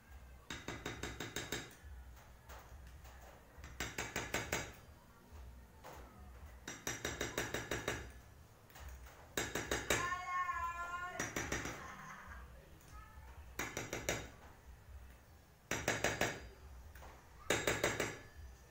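Light, rapid tapping of a flat screwdriver on a Honda Beat carburetor during maintenance, coming in several short metallic bursts of quick taps separated by pauses, close and fairly loud, with faint background sounds between the bursts.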